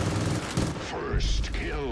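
Gunfire in the video game Far Cry 5 multiplayer, World War 2 mode: loud, dense bursts of shots filling the two seconds, with a sweeping game effect toward the end.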